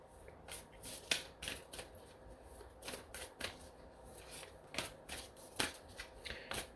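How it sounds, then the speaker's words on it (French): Oracle cards are shuffled by hand during a tarot reading. Irregular, crisp bursts of riffling and card slaps sound close by in a quiet room, with no voice. "j'ai envie de sortir une carte de la monologie"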